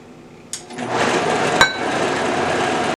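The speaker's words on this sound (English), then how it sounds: "we're gonna just blend this up for kicks" A kitchen blender whirs up liquid ingredients and seasonings for seitan. It kicks on abruptly after a quiet start, then runs as a loud, steady, close grinding roar with a brief clatter partway through.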